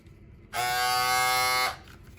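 A Remington electric shaver switches on abruptly, runs about a second with a loud, steady buzzing whine, then cuts off, close by with no one talking.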